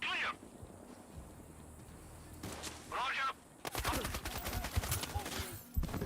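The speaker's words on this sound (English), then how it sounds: "I hear shots nearby" Gunfire breaking out nearby in Sniper Ghost Warrior Contracts 2, loud rattling bursts and single sharp cracks in the second half after quieter stretches with short radio-like voices.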